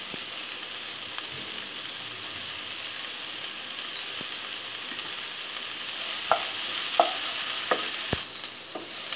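Onions sizzle and fry steadily in a pan while making idli upma, with occasional clinks and scrapes of a utensil stirring them, and no talking.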